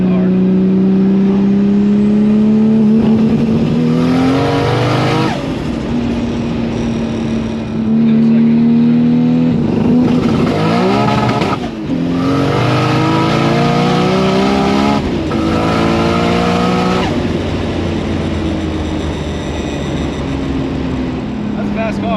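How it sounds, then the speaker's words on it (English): A 1200-horsepower Barra-swapped Mustang accelerates hard from inside the cabin, its engine note climbing through several gears with distinct shift breaks, loud and close, with people talking over it. "That's a fast car."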